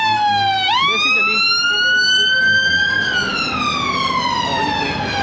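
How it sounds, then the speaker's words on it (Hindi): An ambulance siren wails loudly through a London street near Buckingham Palace, its rising, steady tone sweeping past close by and then dropping in pitch as it moves away. "एम्बुलेंस जा रही थी, सॉरी"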